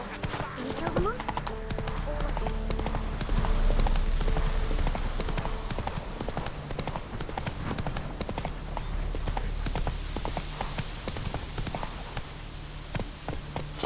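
Horse hooves pounding in a steady galloping rhythm in The Witcher 3: Wild Hunt, close and continuous under game music and a voice urging the horse on.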